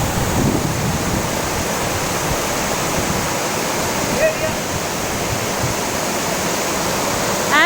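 Steady, full roar of a hidden waterfall near Neral, Maharashtra, heard up close as continuous broadband rushing water with no breaks, loud and even throughout.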